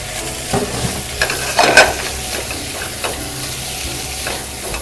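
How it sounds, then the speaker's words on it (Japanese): Fish bones and scraps from sea bream are fried in a generous amount of oil over high heat. A steady, close sizzle carries a few scraping stir strokes, with no talking. "この時弱火というよりも結構強火の中で、お魚アラを炒めていきます。"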